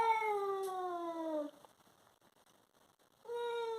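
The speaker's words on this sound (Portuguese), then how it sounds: "Quem é esse gato?" A cat that came in through an open window gives two long, drawn-out tonal meows or yowls, one in the first seconds and one after a quiet gap, fairly close and clear.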